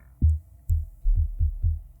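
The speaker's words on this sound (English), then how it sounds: "Without all the effects, my main bass sounds like this." Dry synth bass from an Ableton Operator patch with no effects, five short deep notes in a steady rhythm, clean and low with quick attacks and no other sounds.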